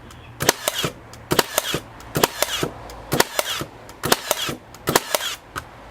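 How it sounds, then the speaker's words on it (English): Milwaukee M12 cordless brad nailer firing nails in bump fire mode, sharp loud snapping shots in quick pairs, repeated in steady bursts about once a second with no talking. "Having to stop every second nail is all it's firing."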